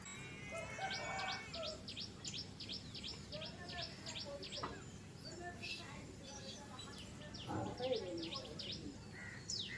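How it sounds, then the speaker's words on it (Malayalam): Morning birdsong around a village home in Palakkad, Kerala, where crows, a koel, sparrows and hens are about: rapid repeated chirps and tweets in bursts, fairly faint and distant over a steady low background hum. "ഈ കാക്കിയും കുയിലും കുരുവിയും കോഴിയും"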